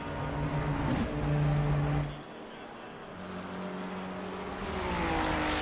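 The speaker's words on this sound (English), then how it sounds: "I think you hear more whine than you do with the engine. You hear more of the gear whine" Porsche GT3 race car in Assetto Corsa Competizione, with a steady high gear whine riding over the engine drone. The tone rises and falls slightly as the car runs at a constant loud level, with a brief dip partway through.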